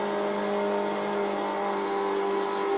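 A car engine in The Crew 2 racing game holds a steady, loud, continuous drone with a slight rise in pitch, heard alone.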